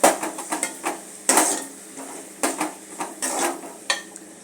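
Ground masala sautés in hot oil for an anchovy fish curry while a utensil stirs and scrapes against the pan in uneven bursts over a soft background sizzle.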